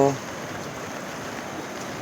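The Ashwin river in flood after heavy upstream rain roars as a steady, close, unbroken rush of water, with a brief voice at the very start.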